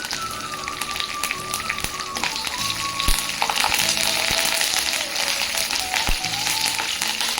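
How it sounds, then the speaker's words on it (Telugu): Steady crackling sizzle of curry leaves frying in hot tempering oil for dal, close and continuous, with a few sharp pops and faint clinks. "కొంచెం వేగినాక కరివేపాకు యాడ్ చేసుకుంటాం"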